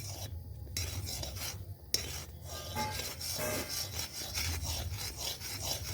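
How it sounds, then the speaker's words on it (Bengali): A spoon scraping and stirring ghee in a pot as it cooks down and releases its oil, a steady rhythmic rubbing and rasping close by, with one brief knock partway through. "এই দেখো ঘাটতে হবে এখন যত ঘাটবো তত না হলে নিচে লেগে যাবে"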